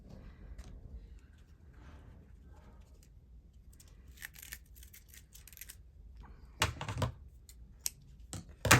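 Scissors snipping embroidery thread during a stitchery journaling session, a few small crisp cuts and rustles over a quiet background, with louder clustered snips and handling noises near the end.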